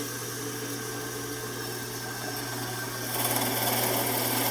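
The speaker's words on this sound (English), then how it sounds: "I already have the drill press set up" Drill press running in a school wood shop: a steady, even motor hum and whine that continues throughout, stepping up slightly louder toward the end as it works, no talking.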